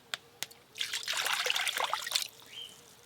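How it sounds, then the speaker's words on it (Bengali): Water poured into a wok in a home kitchen, a shaky gurgling trickle that swells and runs unsteadily for a couple of seconds after two sharp knocks, then tails off into a thin drip. "তার জন্য কড়াতে জল দেব।"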